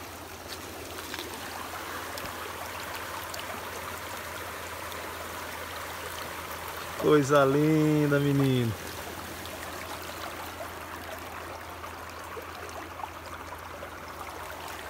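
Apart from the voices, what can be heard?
stream water flowing into a creek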